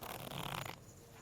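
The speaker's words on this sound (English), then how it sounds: "One more shuffle." A deck of playing cards gets one quick riffle shuffle, a brief soft fluttering rush of cards that stops abruptly into quiet.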